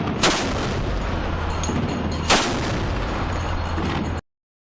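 Two heavy 30mm Tunguska anti-aircraft cannon bursts, each a sharp loud blast followed by a sustained roaring rumble that carries on between shots until the sound cuts off abruptly.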